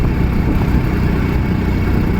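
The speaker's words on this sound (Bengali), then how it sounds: "গাড়ির ইঞ্জিন" Car engine steadily droning on a winding, steep hill road, loud and continuous low rumble throughout with no talk.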